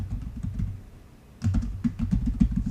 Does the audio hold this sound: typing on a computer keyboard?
yes